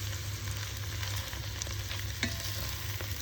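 Spicy chicken pieces go into a pan of already sautéed sliced onions for a chicken curry and sizzle and spit steadily, with a constant frying hiss and occasional stirring scrapes close by.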